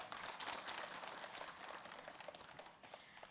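A studio audience of women applauds during a television religious talk show, a faint, dense crackle of many hands that starts fuller and gradually thins out toward the end.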